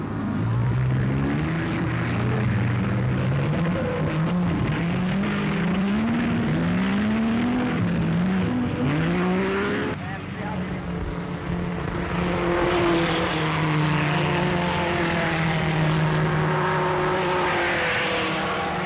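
Silver Arrows racing cars of the 1930s speed past, loud engine notes rising and falling in repeated swooping sweeps, then a second loud pass with a steady high roar, no talk.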